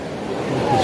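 A fast-flowing river during a rescue effort in Rajouri sends up a steady, loud rush of water, like broad noise that swells slightly toward the end, with no clear voices over it.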